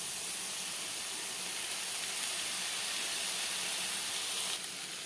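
Two cut tomatoes go into a hot pan to sauté for tomato pulao, giving a steady, fairly loud broadband sizzle and hiss that holds evenly throughout with no talking.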